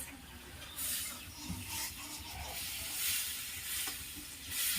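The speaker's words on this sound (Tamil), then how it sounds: "வச்சுட்டு வந்து தக்காளி வெங்காயம் வதக்கு" Tomato and onion sauté in a pan at home, a steady soft sizzle and hiss with faint stirring scrapes, fairly quiet and continuous with no talking.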